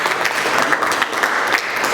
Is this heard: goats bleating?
no